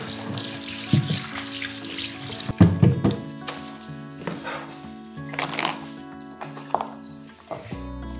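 A leek is rinsed under a running kitchen tap, with splashing and gurgling water in uneven bursts, soft and close, over a faint background tone.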